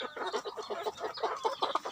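Black-winged farm chickens clucking nearby in a backyard flock, a steady run of short, busy clucks and murmurs overlapping with one another.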